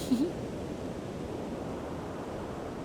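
Steady, strong wind roars across an open beach at Little Talbot Island State Park, Florida, a broad constant rush with a faint gust at the start and no voices.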